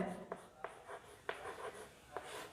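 Marker or chalk strokes on a classroom board during a Class 11 chemistry lesson, a series of short scratchy squeaks and taps spaced irregularly, fairly faint and close, with no talk over them.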